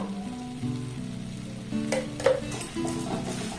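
Semolina kalojam dough worked with ghee in a pan gives soft scraping and shuffling with a faint sizzle, growing busier midway. A steady tonal hum runs underneath.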